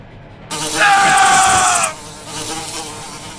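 Bees buzzing loudly in a room in the video game Escape the Backrooms, a dense close swarm drone swelling in for about a second and a half before dropping back to a faint hum.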